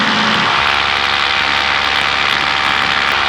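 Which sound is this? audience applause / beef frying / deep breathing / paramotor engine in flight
paramotor engine in flight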